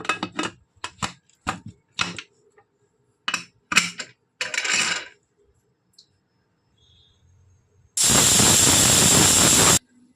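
After sharp, irregular chopping-like taps, a pressure cooker cooking manathakkali keerai for kuzhambu lets out a loud, continuous steam hiss lasting about two seconds before stopping.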